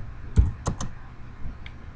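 A few quick keystrokes are tapped on a computer keyboard to enter a number, heard as four or five close, crisp clicks in a short uneven burst over a quiet room.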